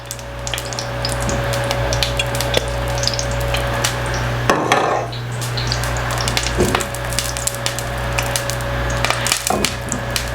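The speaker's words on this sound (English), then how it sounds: "As you can hear, it's sizzling already." Hot oil sizzling in a pan close by, a constant loud hiss peppered with sharp crackles and pops, with one louder surge partway through.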